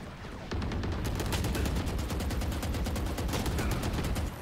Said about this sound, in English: Oh, I just kept shooting, didn't I?